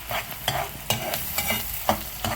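Onion softening in oil and ghee in a pan, with a constant sizzle broken by repeated scraping stirs at an uneven rhythm, close and fairly loud.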